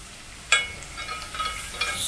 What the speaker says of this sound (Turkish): Soğanlarım kavruldu.